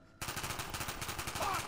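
Rapid automatic gunfire from Call of Duty: Black Ops 1 zombies multiplayer on PlayStation 3 starts abruptly and runs as a steady, evenly spaced burst of loud shots.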